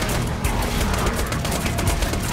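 Dense, continuous gunfire from the video game Borderlands 2, a steady loud rattle of rapid shots filling the whole stretch with no pauses.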